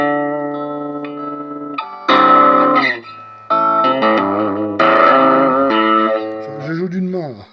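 Electric guitar played through a Vox Pathfinder 10 amp with boost on and gain at maximum, loud sustained distorted chords and bends in several ringing phrases, played one-handed.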